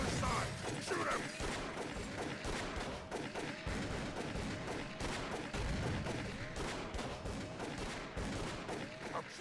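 Rapid gunfire from a video game chase scene, a dense continuous barrage of overlapping shots and clattering impacts running the whole time, loud and busy, with game voices shouting underneath.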